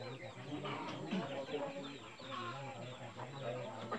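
Chickens clucking softly in short repeated calls, fairly close, over a faint steady background hum.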